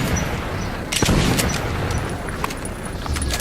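Gunfire in the video game Metro 2033: several sharp shots crack over a dense, noisy game soundscape, with one prominent report near the middle and lighter bursts around it.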